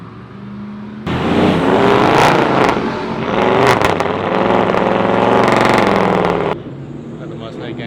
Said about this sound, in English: Got the Mustang gang pulling out.